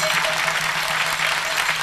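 A television studio audience gives brisk, even applause, dense clapping sustained without pause across the whole short stretch.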